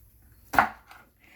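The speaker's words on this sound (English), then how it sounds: "I'm going to cut up my peppers and my onion" A single sharp knife chop through hot peppers and onion on a cutting board, one crisp loud strike followed by a fainter second cut, alone with no talk.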